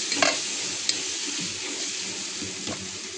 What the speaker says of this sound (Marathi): आता हे मसाले आपण चांगले भाजून घेऊया.